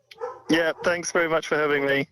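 A pet dog gives a few quick yipping barks in close succession, overlapping with someone speaking nearby.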